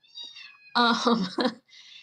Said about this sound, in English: I'm fostering this kitten, and she's very loud.